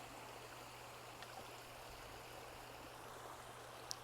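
A waterfall flows steadily in the distance, a faint, even rushing wash with a constant low hum beneath it and no voices.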